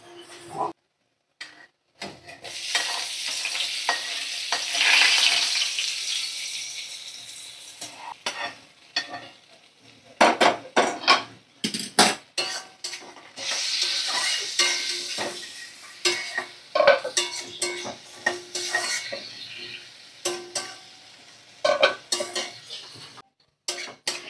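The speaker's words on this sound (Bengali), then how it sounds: "তো দেখো কিছুক্ষণ নাড়াচাড়া করে নিচ্ছি আমি" Fried lentil dumplings (bori) are stirred in a pan over sizzling oil, with a utensil scraping and clattering against the pan in repeated bursts for about twenty seconds.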